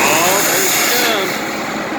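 Allis Chalmers HD7 crawler engine running loud and close right after a cold start following winter, a steady rough roar with a high whine across the whole stretch and no talking.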